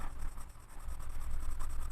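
Lyra watercolour pencils scratching and scraping across paper while colouring, a steady close, soft rasp with small rhythmic strokes continuing throughout.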